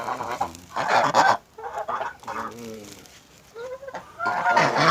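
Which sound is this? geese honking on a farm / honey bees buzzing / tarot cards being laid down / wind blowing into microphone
geese honking on a farm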